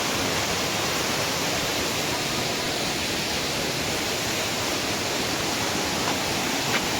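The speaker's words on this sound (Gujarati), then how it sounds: "જો ઝરણું પડે છે અહીંયા છેક નીચે સુધી" A mountain waterfall near the Sundha Mata temple at night pours down in a constant, full roar that stays loud and unbroken, with no voices.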